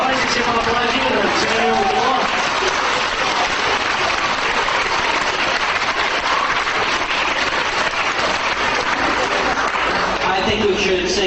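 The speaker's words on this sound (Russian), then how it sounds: "Давайте всем аплодируем." An audience at a business seminar bursts into sustained clapping that fills the hall steadily, with a speaker's voice talking over the applause.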